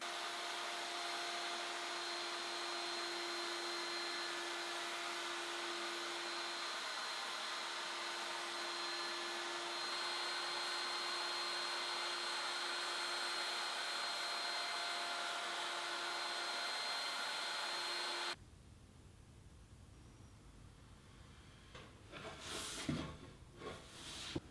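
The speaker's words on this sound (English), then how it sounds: "round over all of the sharp edges, and I'm going to do that at the router table" A router table rounds over the sharp edges of wooden bookcase shelf parts with a loud, steady high-pitched whine and hiss that runs for about eighteen seconds, then cuts off, leaving quiet shop noise and a few knocks.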